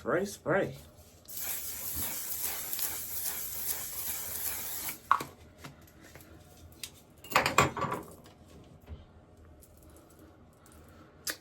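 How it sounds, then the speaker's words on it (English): A sustained hissing makeup setting spray runs for several seconds, followed by a shorter burst, with soft rustling and handling noises around it. "And then we spray again."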